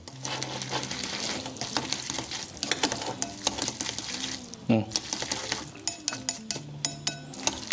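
A spoon stirs noodles mixed with cheese in a pan, with a steady sizzle, scraping and clinking utensils, close and moderately quiet. Someone talks briefly over it.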